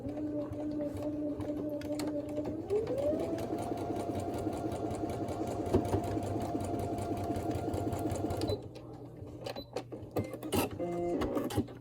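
Domestic sewing machine stitching small quilt patches for a 64-patch postage stamp block, running steadily for about eight seconds with a shift in motor pitch, then stopping and giving way to brief handling clicks.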